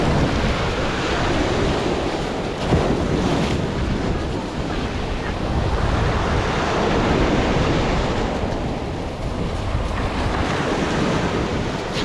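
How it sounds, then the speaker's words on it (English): Surf rolls and breaks steadily on a beach, a continuous loud wash of waves mixed with wind buffeting the microphone. "We've pretty much got this whole beach to ourselves."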